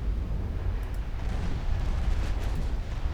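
Naval gunfire and explosions from the Ultimate Admiral Dreadnoughts naval warfare game: a dense, continuous low rumble of distant booms and blasts, loud and unbroken, with no talking.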